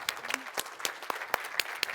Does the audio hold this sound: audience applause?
yes